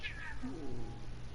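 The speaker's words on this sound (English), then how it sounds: "That cat sounds pissed." A cat in heat lets out an angry, drawn-out meow that slides downward in pitch, close and moderately loud over a low background hum.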